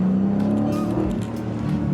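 A 2020 Dodge Challenger 392 Scatpack T/A accelerating, a loud, close, deep engine growl with a steady low rumble held through the short burst.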